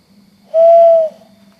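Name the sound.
owl hooting at night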